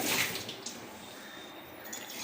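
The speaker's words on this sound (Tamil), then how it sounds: "நல்லா கழுவிட்டாங்க" Broken rice being rinsed and swirled in water in a kitchen while preparing rice upma, a soft continuous splashing and sloshing that is loudest at the start and then settles to a quieter steady wash.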